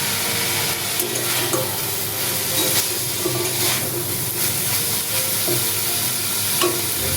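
Constant oily sizzling and hissing from a pan as lentil fritters go into a banana-flower curry, with occasional scrapes and taps of a spoon stirring the food.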